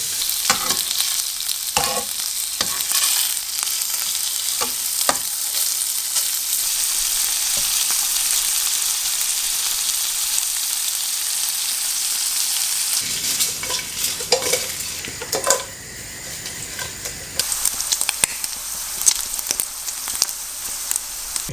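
Smoked bacon frying in its own rendered fat in a pan, a loud, dense, continuous sizzle with crackles and occasional scraping stirs, briefly quieting before resuming.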